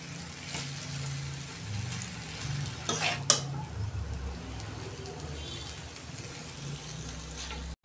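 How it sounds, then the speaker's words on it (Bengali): Vegetables are tossed with chowmein noodles in a pan for egg chowmein, producing a soft steady sizzle with a burst of clattering spatula scrapes midway and low background rumble. "এই সবজিগুলো চাউমিনের সঙ্গে ভালো করে আমি মিশিয়ে নেব"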